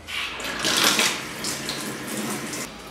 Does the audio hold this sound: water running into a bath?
yes